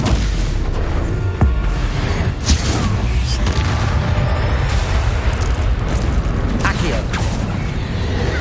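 A fiery Confringo spell explosion in the Hogwarts Legacy video game, a loud booming burst over a dense, rumbling game soundscape with creaking mechanical noise.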